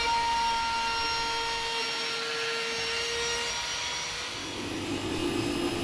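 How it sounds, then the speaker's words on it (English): A trim router fitted with a roundover bit profiles a wooden edge for a TV console cabinet, a loud continuous high-pitched whine that dips briefly as the cut load changes, alone without talk. "using a roundover bit on the trim router, we complete the profile edge"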